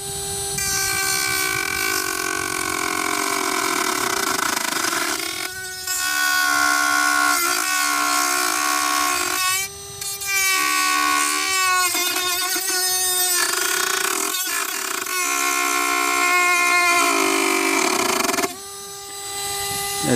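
A 12V ToolPro cordless rotary tool with a small cutting wheel slices into plastic, giving a high whining buzz in repeated bursts that dip and return as the cut bites and eases, loud and close.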